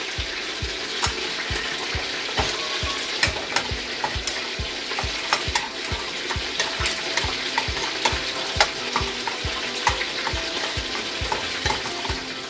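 Pieces of chicken for an almond-sauce dish fry in a pan with a steady loud sizzle, overlaid by frequent rhythmic scraping and stirring strokes as the pieces are moved and turned.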